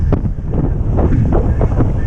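Strong wind blowing about 25 knots buffets the microphone in loud, gusty bursts, with rushing water and hydrofoil board noise mixed in during a downwind foil run.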